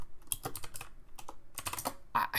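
Typing on a computer keyboard, a quick irregular run of close key clicks in small clusters with short gaps, fairly quiet and alone.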